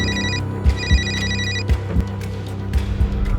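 A telephone rings with a repeating electronic trill in two bursts, loud and near, over a dramatic film score with low thumping beats.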